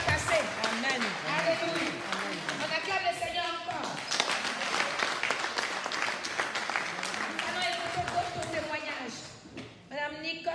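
A church congregation at a Paris worship gathering applauding and acclaiming, with dense steady clapping and raised voices running throughout before thinning briefly near the end.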